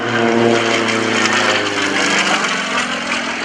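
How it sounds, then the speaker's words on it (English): A loud, steady aircraft engine drones throughout with a rough, throbbing tone from a modified Russian M14 radial engine, close and continuous, during an airshow, no voices. "He's got a modified M14 engine up front. That's right, it's a Russian radial engine."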